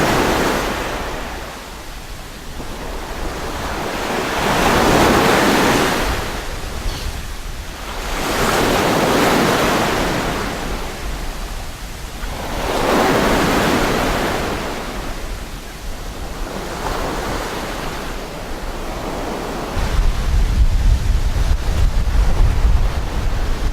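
Sea waves wash up on a tropical beach in the Daintree, Australia, in slow rolling surges every five seconds or so, a steady roar of surf with wind buffeting the microphone.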